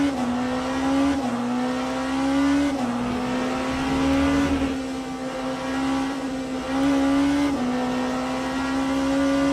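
A BMW race car in Le Mans Ultimate at Portimao roars steadily at high revs, its engine note climbing through each gear and dropping at every shift, loud and continuous with no talking.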